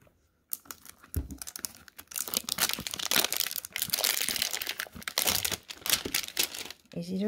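Close, busy crinkling and tearing of plastic wrapping as it is pulled off a jar of Pistaché body butter, with brief quiet gaps between bursts of rustling.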